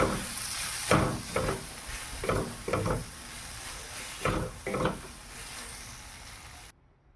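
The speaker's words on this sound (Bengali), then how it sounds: "মশলাটা দেওয়ার পরে এবার নেড়ে চেড়ে নেব।" Okra and tomato curry stirred with Maggi masala in a pan: a continuous sizzle with a series of scraping spatula strokes in uneven bursts, close by, ending abruptly in silence.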